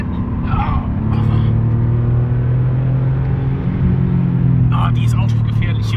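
A Porsche accelerating on the Nürburgring in November 2008, heard as a low engine drone that rumbles steadily from inside the car while people talk and exclaim over it.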